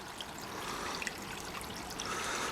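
Water running through a car diesel particulate filter taken off the vehicle for cleaning, a steady close trickle and dribble that continues without a break.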